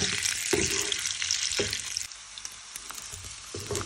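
Food browns in hot oil in a frying pan with a steady, bright sizzle, interrupted by a few knocks and scrapes of stirring, close and with no talk.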